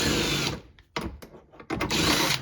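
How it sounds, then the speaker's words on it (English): A power driver whirs to back out a 10mm head bolt on a Toyota Sienna rear hatch, with a long buzzing run, brief stuttering pulses, then another sustained spin close up. "And now you have a 10mm head bolt right here to remove."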